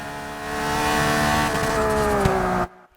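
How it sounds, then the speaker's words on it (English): A Saleen S7 engine in the racing game Forza Motorsport 6 holds a loud, steady, sustained tone with a slight pitch drift, then cuts off abruptly near the end. "I just love the sound of this engine."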